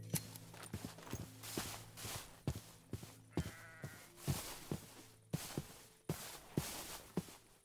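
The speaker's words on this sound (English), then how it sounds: "Oh, there's more sheep over there." Sheep in the Minecraft video game bleat repeatedly in a rhythmic run of short calls over a steady game background, with a few clip-clop-like hoof sounds mixed in; no one talks.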